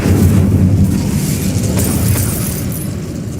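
Incendio fire spell cast in Hogwarts Legacy, a loud booming burst of flame with a heavy low rumble that sustains and slowly fades over a few seconds.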